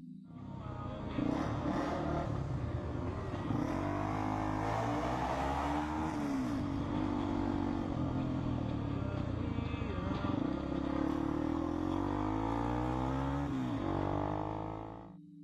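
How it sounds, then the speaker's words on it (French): Steady, loud engine noise of a car and a motorcycle on the road as the car cuts off the motorcycle, with revving and shifting pitch as the vehicles move, continuous throughout. "Un motard se fait couper la route par une voiture."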